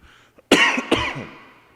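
Two sharp, close coughs in quick succession, the second trailing off into a rough, fading exhale.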